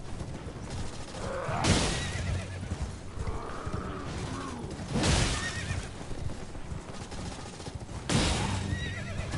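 Horse neighing in the video game Elden Ring: three loud whinnies spaced a few seconds apart, alone over a busy game soundscape with hoof-like clatter.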